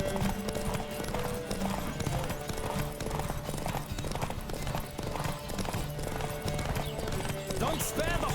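Horse galloping in the video game Witcher 3, steady clip-clop hoofbeats running throughout with occasional neighs, mixed under game speech and background sound.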